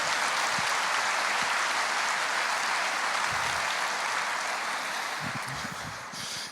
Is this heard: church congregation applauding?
yes